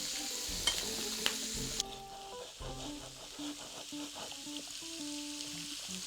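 Meat grilling on a hot surface gives a steady close sizzle with crackling pops, marked by a few sharp knocks and clinks from utensils early on; no one speaks.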